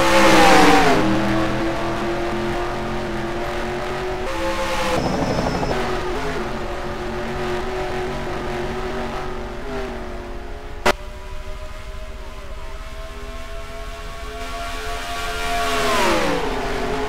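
Engines of a pack of stock race cars in a racing video game surge and rev on a restart, a steady droning roar with rising and falling pitch as cars pass, one sharp click midway, no talk.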